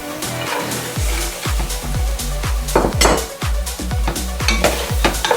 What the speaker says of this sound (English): Stir, stir, stir, mix everything together.